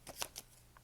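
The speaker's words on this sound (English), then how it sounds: "I'm gonna use my deck of cards." Deck of tarot cards being shuffled, a few quick papery riffles and slaps in brisk succession, close and fairly quiet, with a faint soft tap near the end.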